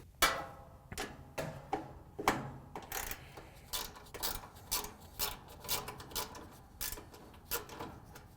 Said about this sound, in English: we're going to use our ratchet again to take out this screw that holds the heating element assembly to the floor